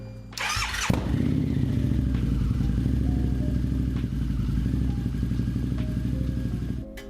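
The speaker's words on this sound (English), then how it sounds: "I think the V-Rod does have the best startup sound" A V-Rod motorcycle engine cranks with a whirring starter, fires up, and settles into a loud, steady, throbbing idle nearby.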